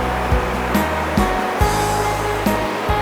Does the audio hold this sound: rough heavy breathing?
no